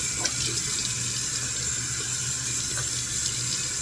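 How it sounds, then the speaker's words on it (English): Tap water runs steadily into a sink as a face is rinsed after a honey and turmeric mask, a constant close splashing hiss with faint irregular splashes. "I just rinsed it off with water"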